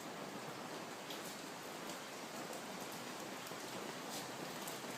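Steady rain patters on a tent in the riverside hills of northern Thailand, a dense, even hiss of drops on the fabric holding constant for the whole stretch with no voices.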